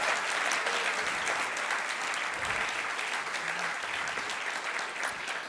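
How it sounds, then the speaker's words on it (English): Steady, dense applause from a large audience at the 2018 Imagine Cup World Championship finals, Microsoft's student innovation competition, sustained evenly throughout with no talk. "You can applaud again."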